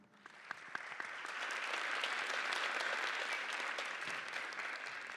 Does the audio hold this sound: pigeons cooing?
no